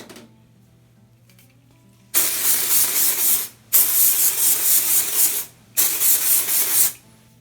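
Dry shampoo hisses from an aerosol can onto a wig in three loud, close bursts of a second or more each, separated by short pauses, after a quiet start.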